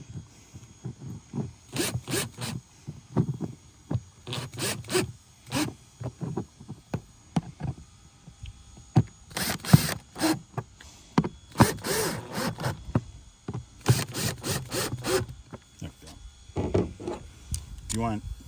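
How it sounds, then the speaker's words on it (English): A handheld screwdriver drives long screws into a Yakgadget Bump Board Holder for a kayak ketch board, heard as repeated bursts of close, raspy ratcheting and scraping in short uneven runs with pauses between them. "Just use a screwdriver to do all this."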